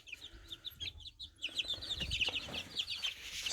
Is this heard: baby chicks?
yes